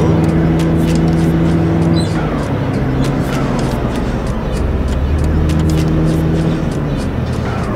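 Interior of a Toyota Camry accelerating hard and changing lanes on a city road, a loud steady engine drone and road roar with shifting tonal hum, close inside the cabin and without talk.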